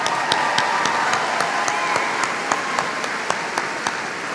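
Steady audience clapping at the Monroe High School Class of 2018 graduation, honoring students with high grade averages, a dense, even round of applause with individual claps standing out near the front.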